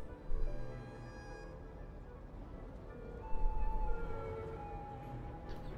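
A fire engine siren wails in the Cities: Skylines city-building game, a steady tonal whine that swells louder partway through over a busy, dense background of city ambience.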